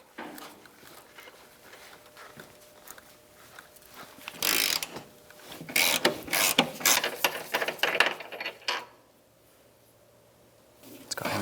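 Rapid bursts of ratchet clicking as an 18mm bolt is loosened from the torque strut engine mount of a 2010-2013 Nissan Versa, close and crisp, in several quick runs with brief pauses, then quiet.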